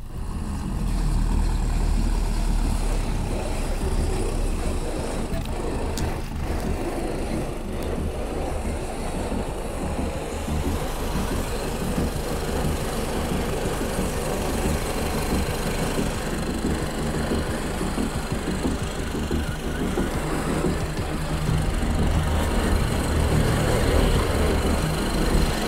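GAZ-66 Shishiga truck converted to run on tracks, a steady heavy engine drone with dense rattling track clatter rolling on continuously for nearly half a minute, fairly near, with no talking.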